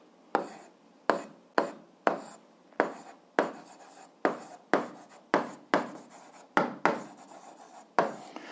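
Chalk or marker strokes on a classroom board during an 8th-grade algebra lesson, about a dozen sharp scratching bursts in an uneven rhythm, close and fairly quiet, with no talking.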